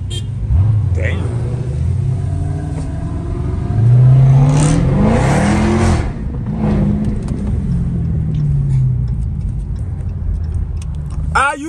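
A Dodge Hellcat engine, an SRT model, roars and rises in pitch as it accelerates, loud and close, with a sustained deep rumble that swells in the middle of the run and eases off toward the end, heard on a night street in Denver.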